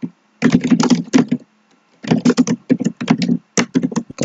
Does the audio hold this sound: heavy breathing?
no